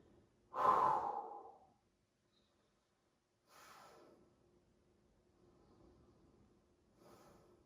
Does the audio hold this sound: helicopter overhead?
no